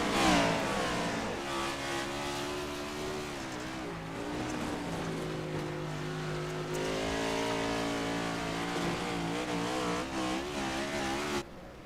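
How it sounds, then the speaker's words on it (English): A dirt track race car engine revs hard on and off the throttle at Bristol, a loud, continuous rising and falling roar of strong harmonic tones with crowd and track noise behind it. "You hear Jacob Carter on that throttle"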